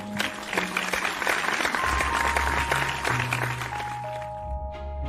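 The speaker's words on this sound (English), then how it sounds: "Let's give Classic Caillou a round of applause." Classroom applause fills the room steadily and loudly for about five seconds, a dense wash of clapping from a group of children with faint voices mixed in and sustained tones running underneath.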